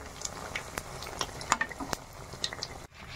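Malpua frying in moderately hot oil, a steady broadband sizzle with scattered crackles and a few sharp pops, close and fairly quiet, with no voices.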